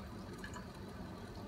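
Tap water flows steadily into an electrolytic water ionizer purifier, a soft, continuous faint rushing and trickling with no talk.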